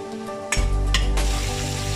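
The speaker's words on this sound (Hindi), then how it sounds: "देखिए ये हमारी कैप्सिकम और अनियन फ्राई हो रहे हैं।" Capsicum and onion frying in a hot pan, a steady loud sizzle that swells suddenly after a quiet start, with a couple of brief scraping stir sounds, no voices.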